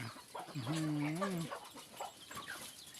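A chicken clucks close by outdoors near a rice field, with a drawn-out rising and falling call followed by softer clucks and faint background activity.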